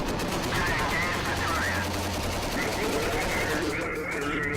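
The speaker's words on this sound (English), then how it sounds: "another bro of mine's laying down fire, and I start firing." Soldiers firing weapons in combat, a dense run of rapid gunshots in close bursts that keeps going throughout, loud and near, with a voice talking over it.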